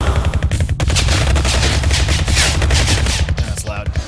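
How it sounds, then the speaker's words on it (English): Video game laser gun fire, a loud, dense barrage of rapid repeated shots that rattles on continuously with no break, each burst crackling sharply. "Laser gun frenzy."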